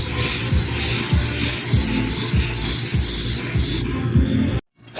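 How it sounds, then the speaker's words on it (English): Spray can coating wood panels with black paint, a loud continuous close hiss with rhythmic pulsing bursts, cutting off abruptly to silence near the end. "I'm gonna get some black paint that I have, and I'm gonna go ahead and spray these"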